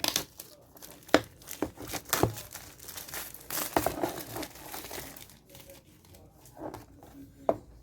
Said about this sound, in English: so let's remove this plastic.